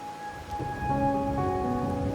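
Rain falls steadily in the video game Wuthering Waves, a soft broadband patter that thickens partway through, with sustained musical tones ringing over it and no speech.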